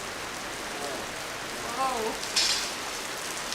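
Heavy rain patters steadily in a broadband hiss during an outdoor axle repair, with a few brief voice sounds and a short squeak breaking through.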